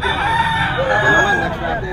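A stag gamecock crows once in a drawn-out, wavering call at a cockfighting arena, moderately close, with murmuring crowd noise and other birds in the background.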